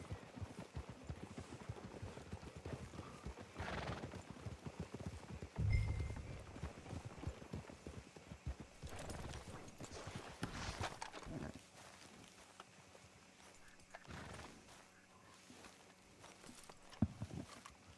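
Horses clip-clop at a walk through the Red Dead Redemption 2 game world, with a steady run of hoof beats and a couple of heavier thuds in between.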